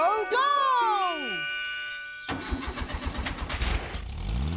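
A cartoon car engine starts with a whooshing, sliding magical chime, then sputters into a rapid, rhythmic running chug that continues loudly to the end, with a high tinkling sparkle over it.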